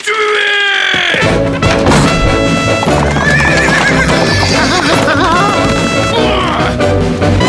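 Horses whinny and neigh loudly near the start, then hooves clip-clop at a gallop amid crashing commotion and faint shouting voices.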